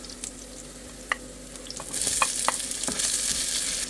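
Garlic and onion sautéing in a pan, stirred with a utensil: a steady sizzle that swells in the second half, broken by several sharp scraping clacks of the spoon against the pan.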